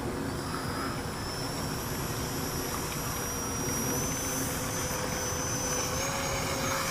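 A RebelV2 RC airplane on a 4S 2200mAh battery runs its motor at full throttle outdoors: a steady, loud electric whine with a droning buzz underneath that climbs slightly in pitch, continuous throughout with no talking.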